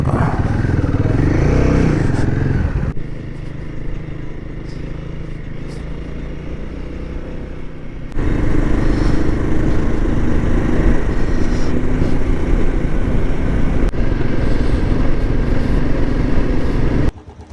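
A motorcycle engine drones steadily while riding, loud and continuous, with rushing wind and a shift in engine pitch partway through.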